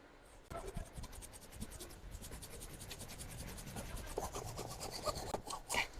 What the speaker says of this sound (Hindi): ये नक्के हम इधर से आरी के साथ काट देंगे